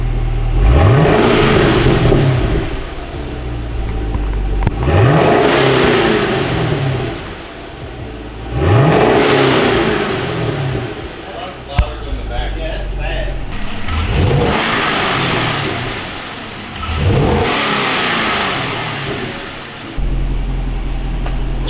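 A Chevrolet Camaro engine revs repeatedly in several surging bursts roughly every four seconds, each climbing and falling back, with people talking intermittently over the fairly quiet exhaust.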